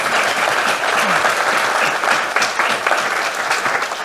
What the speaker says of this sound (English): Please join me in giving our three panelists another round of applause.